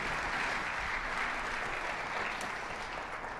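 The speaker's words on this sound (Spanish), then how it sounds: "dale un aplauso." Church congregation applauding the Lord after a sermon prayer, a sustained, even round of clapping filling the room with no talking.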